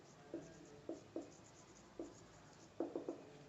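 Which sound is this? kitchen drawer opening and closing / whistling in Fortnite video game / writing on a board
writing on a board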